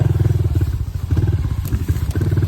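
A Honda 110 pit bike on trails in Quebec chugs along close up, a loud pulsing low engine putter that rises and falls with the throttle, with light clatter over rough ground.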